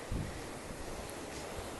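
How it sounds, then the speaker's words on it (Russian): Strong wind gusts over a Dominican Republic beach, a loud continuous roar of buffeting air with a brief heavy gust at the start and surf blended underneath. "Очень сильно дует ветер."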